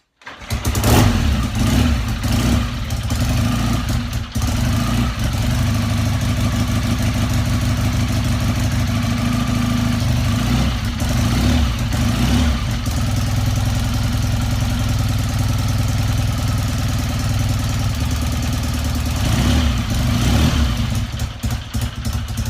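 A BSA A70L Lightning motorcycle kicks into life, then runs steadily close by with a loud, throbbing twin-cylinder beat. The choke is on, and the engine rises and falls slightly in a few blips and revs.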